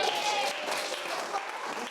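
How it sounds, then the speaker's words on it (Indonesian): Students in a classroom give a short round of applause, a dense, steady patter of many hands clapping that fills the room at moderate loudness without a break. "Ya, tepuk tangan dulu semuanya."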